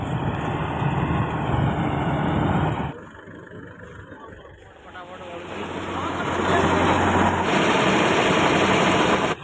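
A rice harvesting cutter machine runs in a paddy field, a steady engine drone with mechanical clatter that dips and rises, while someone talks over it.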